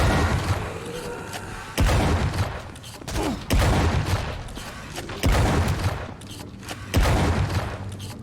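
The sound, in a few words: shotgun firing in video game WRATH: Aeon of Ruin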